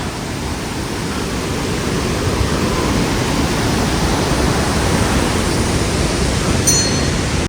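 Steady, dense roar of a waterfall along the Annapurna Base Camp trekking trail, a constant broadband rush of falling water that holds loud and unbroken throughout, with no voices.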